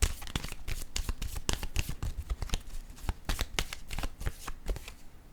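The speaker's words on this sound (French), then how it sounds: "Je vais piger une autre carte pour ce masculin." Tarot cards are shuffled and handled in quick, crisp riffles and flicks, close and fairly quiet, with no voice over them.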